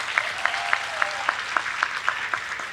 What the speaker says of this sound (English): Let's give those distinguished navigators a round of applause once more.